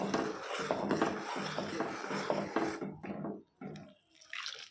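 Spices, asafoetida, salt and rasam powder being stirred into a tomato-tamarind rasam in a pot, giving soft wet scraping and clinking strokes in a steady rhythm, close up, fading to sparse quiet taps near the end.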